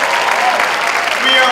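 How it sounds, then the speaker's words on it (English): Audience applause at a comedy show during a student culture show, a loud, dense burst of clapping from a crowd filling the short moment without a break. "Can we all get a round of applause for my dad?"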